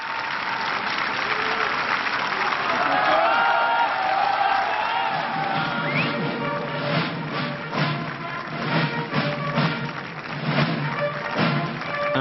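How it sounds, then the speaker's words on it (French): Élysée staff applaud during a presidential handover, sustained clapping from a sizeable group with crowd murmur and voices mixed in, growing more distinct and rhythmic toward the end. "Sous les applaudissements du personnel de l'Élysée"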